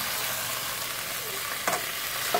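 Ribs browning in a frying pan give a steady, close sizzle, broken by a couple of brief clinks or scrapes near the end.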